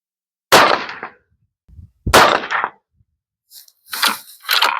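A 6mm GT rifle fired while sighting in: two loud, sharp reports a second and a half apart, each with a short decaying tail, followed by softer noisy bursts.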